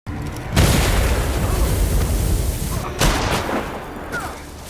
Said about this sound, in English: explosions echoing through the forest